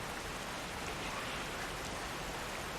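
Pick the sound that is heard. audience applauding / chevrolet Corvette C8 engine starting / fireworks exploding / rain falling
rain falling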